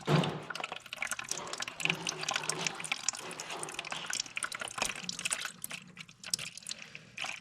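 Water draining out of a Lull Highlander 844 telehandler, a continuous splashing trickle with irregular drips, close and moderately loud, with no talking.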